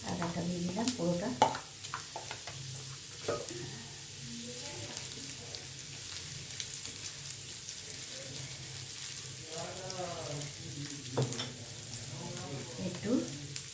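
Ginger frying in a pan over a low flame for a Bengali dinner dish, a steady soft sizzle running throughout with occasional stirring scrapes, while a person talks over it.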